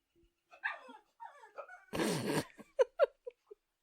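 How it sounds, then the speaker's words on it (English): A dog barks a few times at close range, with short sharp barks toward the end and a broad burst of noise in the middle, between stretches of a person talking. "That's the dog."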